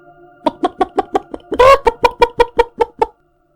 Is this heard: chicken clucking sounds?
yes